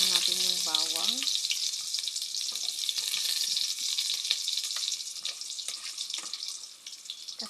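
Garlic sizzling steadily in a hot pan while cooking ginisang monggo, a bright continuous frying hiss close up, with a brief voice-like sound near the start.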